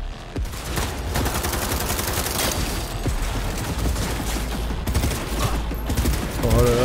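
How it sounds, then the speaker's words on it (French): Burst-fire weapon shooting in Cyberpunk 2077, a continuous dense barrage of rapid gunfire bursts at steady loud level, with other game effects mixed underneath and a heavier blast near the end. "c'est une arme à rafale"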